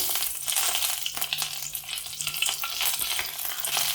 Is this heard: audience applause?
no